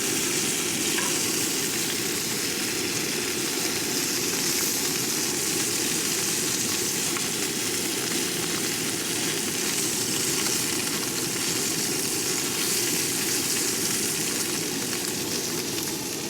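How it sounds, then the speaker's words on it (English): Butter sizzles in a pan at an outdoor forest campsite, a steady dense hiss of frying that holds evenly and fairly loud for the whole stretch with no voices. "Then you're going to add butter."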